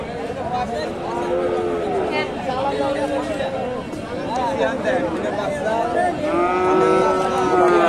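A year-and-a-half-old Friesian bull at the Hasokhali cattle market in Bogura lowing in several drawn-out moos, close and loud, with other cattle calling and a crowd chattering behind.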